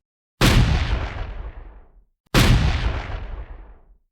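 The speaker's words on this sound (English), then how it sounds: "loads them with grape shot, basically canisters full of metal balls that turn a cannon into a giant shotgun, and fires directly into the crowd at point-blank range." A cannon loaded with grapeshot fires at point-blank range: two loud, separate booming blasts about two seconds apart, each with a heavy rumbling tail that fades out, alone with no voices.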